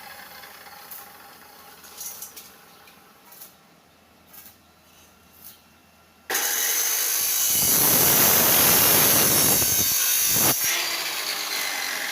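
Quiet knocks and taps, then the small single-cylinder engine of an I-taen farm vehicle starts and runs loudly with a rough, buzzing drone, briefly dipping before continuing.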